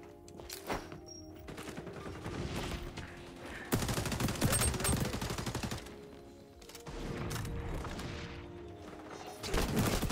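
Rapid automatic gunfire rattles in repeated long bursts during an XDefiant multiplayer match, loud and close with short pauses between volleys.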